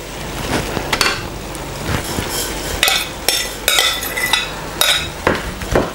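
Minced pork and beef stir-frying in a pan for Filipino picadillo, with a steady sizzle under repeated sharp scrapes and clinks of a utensil stirring the meat, close and fairly loud.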